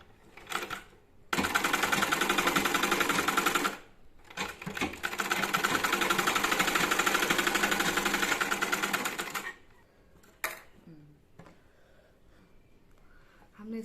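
A sewing machine stitches along a folded garment piece in two long, fast, steady runs of rapid mechanical chatter, separated by a short pause and followed by quieter handling clicks and thumps, heard close with no talking over the stitching.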